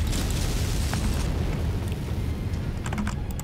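Missile impacts and explosions in MechWarrior 5 Mercenaries, fired from an Archer ARC-2R mech: a dense, continuous low rumble of blasts with scattered sharp crackles, loud and sustained throughout.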